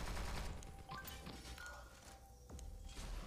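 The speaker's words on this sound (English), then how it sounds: "Bro's using a turret." A turret fires in the mobile shooter Pixel Gun 3D, with quick faint bursts of gunfire and thuds scattered across a low, busy game mix.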